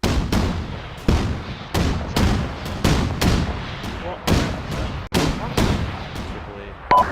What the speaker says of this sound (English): That's AAA engaging us.